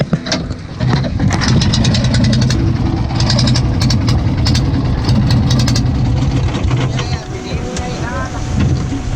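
A diesel boat engine runs steadily at a low, even idle aboard a fishing boat off Roatan, Honduras, a continuous close rumble with water and background noise around it throughout.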